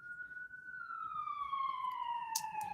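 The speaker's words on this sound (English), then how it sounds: "I think there's an ambulance in the background if you can hear it." An ambulance siren wails in the distance, one long tone that slowly glides downward, faint and steady against quiet background hiss, with a brief sharp click near the end.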